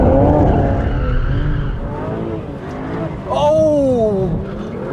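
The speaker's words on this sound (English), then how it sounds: "That's going down in the book as my best drift I've ever done." A BMW 1M Coupe drifts through a corner, tires squealing in long wavering screeches over a loud engine roar, with a sharper skid burst near the end; no talk.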